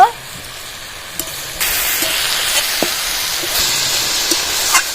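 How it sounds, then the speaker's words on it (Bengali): Broken lentil dumplings (bori) hiss and sizzle in a pan as they are stirred, the frying swelling louder partway through with occasional light clicks of the spoon against the pan. "বড়িগুলো দিয়ে দিচ্ছি এবার ভালো করে নাড়াচাড়া করে দেবো"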